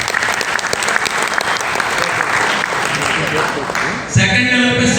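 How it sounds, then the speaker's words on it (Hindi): An audience breaks into loud, sustained applause at a business meeting, dense continuous clapping that fills the room before abruptly thinning near the end. "एक बार जोरदार ताली।"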